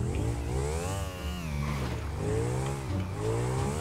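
A motorcycle in GTA 5 revs hard as its rider pulls a wheelie, with the engine pitch climbing, dipping and rising again across a few seconds in steady, loud game audio.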